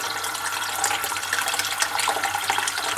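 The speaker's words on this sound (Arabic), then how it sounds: "نضيف لها مقدار باهي من الماء" Water pours into a pot of vegetable and chicken soup, a steady close rushing splash that holds for a few seconds without talk.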